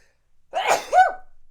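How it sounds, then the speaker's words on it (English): A single sharp sneeze, close by, with a quick intake of breath and an explosive burst, otherwise quiet. "I'm about to sneeze."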